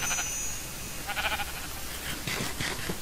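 Sheep bleat in short, wavering bursts at moderate distance, a few calls overlapping one another over a quiet outdoor background, with no talking.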